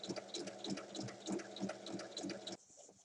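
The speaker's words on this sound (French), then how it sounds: "Ensuite, il faut piquer tout le tour à 1 mm." A sewing machine runs steadily with a rapid rhythmic needle throb, stitching all the way around a drawstring pocket bag about 1 mm from the edge, close and clear, stopping abruptly near the end.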